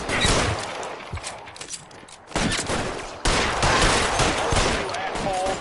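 Gunfire in L.A. Noire Remastered erupts in heavy, sustained volleys, loud and close, with a brief lull before the shooting resumes even harder.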